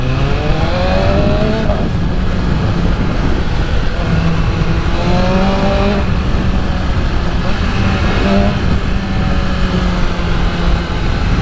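Car engine with the muffler silencer removed revs loudly in repeated rising bursts over a steady idle, close and continuous.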